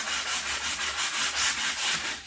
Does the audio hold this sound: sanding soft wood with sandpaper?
yes